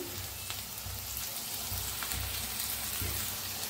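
Chopped onion, green chili, crushed garlic and peanuts frying in a hot pan for a dill-leaf vegetable dish, a loud continuous close sizzle with faint stirring scrapes throughout.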